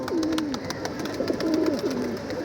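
Pigeons in a loft coo in repeated, wavering calls that rise and fall, fairly soft over a low background hum, with no voices.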